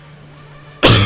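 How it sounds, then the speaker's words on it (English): A single loud, close cough breaks out abruptly after a quiet stretch and stays harsh and throaty through the end. "Sorry, I needed to cough there for a minute."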